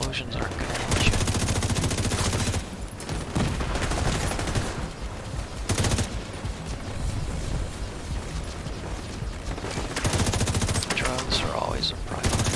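Mortar explosions and rapid gunfire in The Division 2 video game, dense and loud throughout with bursts of automatic fire and booming blasts, a voice talking at times underneath.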